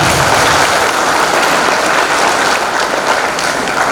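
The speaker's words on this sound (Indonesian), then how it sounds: "Tepuk tangan dulu yang maksa Anda." An audience at a leadership training seminar applauds, a dense steady burst of many hands clapping, loud and close, with no talk over it.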